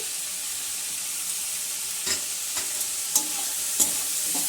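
Chopped garlic, ginger and chili fry in a pan, with a steady close sizzle and a few sharp stirring scrapes toward the end.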